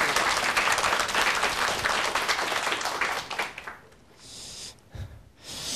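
An audience at a televised lecture bursts into dense, loud applause for the lecturer that holds for several seconds, then quickly fades to a few scattered claps and quiet breathing near the microphone.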